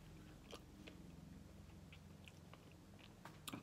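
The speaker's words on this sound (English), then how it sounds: "So sorry to chew in front of you guys" Someone chewing food after breaking a fast, soft and quiet close-up bites and crunches at irregular intervals over a low background hum.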